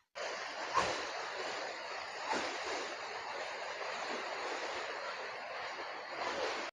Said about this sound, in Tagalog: Kita dyan sa background ko, yung waterfalls na bumabagsak mula dyan sa mga bukal dito po sa kabundukan.